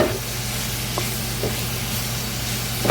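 Thinly sliced bitter gourd (bitter melon) frying in a pan on low heat, a loud, steady sizzle that holds throughout with a few faint clinks of a utensil, close up and with no talking.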